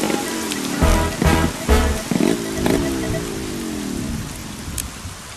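Steady rain falling outdoors, a dense continuous hiss with scattered drop impacts throughout, fairly loud and close, with a few low thumping knocks early on.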